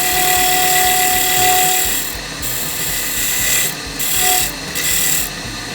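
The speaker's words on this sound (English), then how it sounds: "we're just going to taper the edge" A wood lathe spins a wooden EDC box while a tool tapers its edge, giving a loud, continuous close-up whir and rasping scrape that dips briefly in places as the cut eases.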